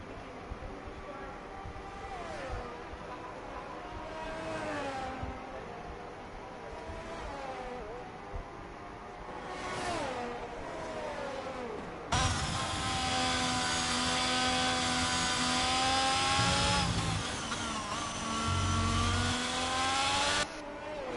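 Formula 1 cars from an F1 racing video game, at the Brazilian Grand Prix, whining past with rising and falling engine pitch, a much louder high-revving car taking over midway, with voices talking throughout.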